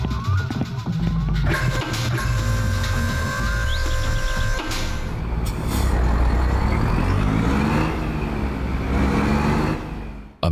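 A truck engine in American Truck Simulator, a PC driving game, rumbling and revving with a hiss of air brakes, then a sustained loud drive that cuts off abruptly at the end.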